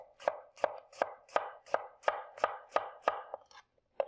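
Knife slicing through bacon on a board, about ten evenly spaced crisp cuts in a steady rhythm, close and clear with no talking.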